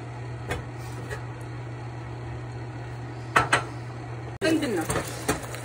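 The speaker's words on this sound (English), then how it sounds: "Stir until it's brown a little bit." A spoon clinks and scrapes against a pot while onions caramelize, giving a few sharp metallic knocks over a quiet, steady background hum.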